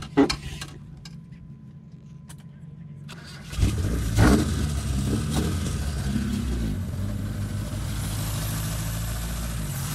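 A Proton Saga cranks and fires up, then settles into a rough idle with a few throaty exhaust revs swelling and fading, close by, with a faint voice early on.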